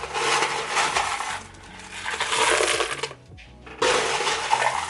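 Leca clay pebbles poured into a plant pot while backfilling around a Monstera albo, a loud, rattling cascade of small hard pellets in two long pours broken by a brief pause, close and with no talk.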